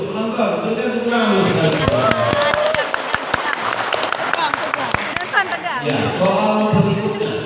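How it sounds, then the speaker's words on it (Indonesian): An audience applauds at a quiz semifinal, a steady wash of clapping at moderate loudness between stretches of an announcer's amplified voice at the start and end. "Penonton, berikan tepuk tangan."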